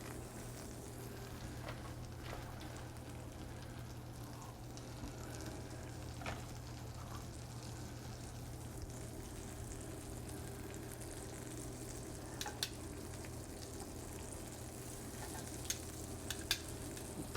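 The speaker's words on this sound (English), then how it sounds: "while we're sauteing these olives" Sliced Greek olives saute in butter in a pan with a faint, steady frying hiss over a low hum, with occasional small pops and ticks.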